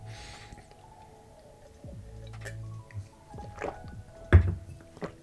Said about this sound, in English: Sorry for all the gulping.